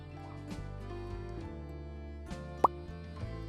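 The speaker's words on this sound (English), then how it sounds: "Generously flour your work surface and place the dough on it." Bread dough drops onto a generously floured work surface with a single soft plop, heard briefly over quiet, steady background music.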